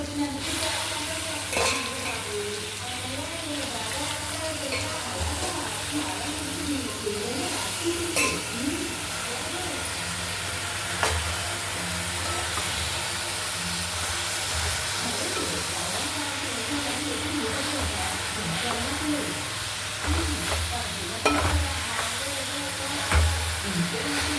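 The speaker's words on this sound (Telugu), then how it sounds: "ఇప్పుడు మనం గోంగూర వేసేసుకుందాము ఇందులో" Gongura leaves frying and being stirred in a pan with ginger garlic paste, a continuous close sizzle and hiss with repeated scraping and clinks of the spoon against the pan throughout.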